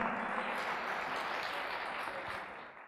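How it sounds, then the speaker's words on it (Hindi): A church congregation gives a sustained wash of loud applause, dense and steady for a few seconds before it slowly fades, with no voices over it. "जोरदार तालियां बजाएं"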